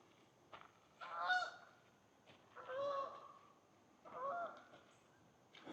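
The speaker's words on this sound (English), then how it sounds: "Oh, a bunch of geese are coming in." Geese honk in three separate bursts, a few seconds apart, moderately distant over a quiet outdoor background at Swan Lake Iris Gardens in Sumter, South Carolina.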